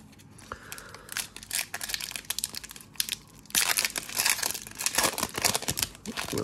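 Merlin football card packs being torn open: repeated crinkling and tearing of foil wrappers, close and fairly loud, in irregular bursts that grow busier in the second half.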